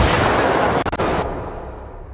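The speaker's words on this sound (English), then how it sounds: "Uh-oh, mortar, get out of that." A mortar shell detonates in the Ghost Recon Wildlands video game: a loud, close, broadband blast with a brief crackle of debris, then a rumbling decay fading away.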